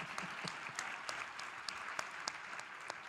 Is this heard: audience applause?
yes